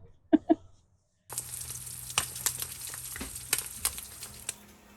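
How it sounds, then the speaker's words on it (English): Eggs sizzle and crackle in a frying pan in an RV kitchen, a steady hiss with scattered pops that starts abruptly after a couple of soft knocks. "We're making eggs this morning"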